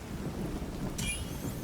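Rain hisses steadily in a video game, and about halfway through a bright crack of thunder breaks over it and rumbles on to the end.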